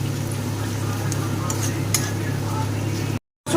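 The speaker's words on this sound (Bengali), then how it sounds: "রসুনটাকে দিয়ে ভালো করে পেঁয়াজের সাথে ভেজে নেব, যাতে রসুনের কাঁচা গন্ধটা চলে যায়।" Garlic paste frying with onions in a pan makes a soft, constant sizzle over a low hum, with a few faint clinks of stirring before a brief cutout at the end.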